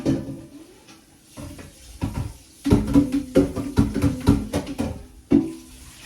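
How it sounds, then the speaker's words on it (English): Kitchen sink work with a big corn cooker pan in a small sink: irregular clanks and knocks of the metal pan against the basin, with soft splashing water between the bangs, close and fairly loud. "Sorry about the noise, I got a small sink and a big pan."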